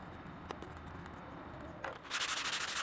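Abrasive sanding on a thin metal welding-electrode rod, quiet at first with a few light ticks, then picking up into rapid, rhythmic back-and-forth scraping close by.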